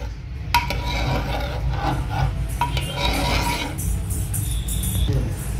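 A utensil rasps and scrapes around a pressure cooker pot of mutton, drumstick and potato curry with added water in steady strokes, with occasional clinks against the metal.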